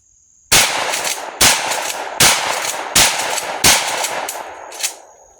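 Five loud, sharp shotgun blasts from a Mossberg Maverick 88 20 gauge pump shotgun firing number 6 shot outdoors, spaced roughly evenly with pump-action pauses between, each followed by a ringing decay.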